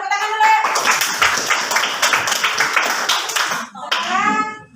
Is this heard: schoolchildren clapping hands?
yes